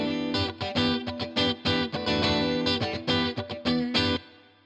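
An Ibanez electric guitar with a 5-way switch is played with coil-split single-coil tones through effects, giving loud, rhythmic, funky strummed chords that end in a short ringing decay.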